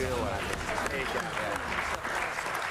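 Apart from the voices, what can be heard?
applause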